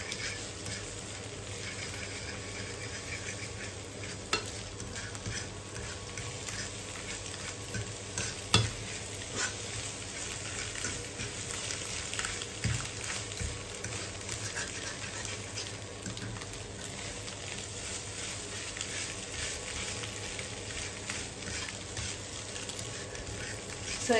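Maggi noodles tossed with egg in a pan, stirred steadily while they fry with a constant sizzle and occasional scrapes and clicks of the utensil against the pan, close up and with no talking.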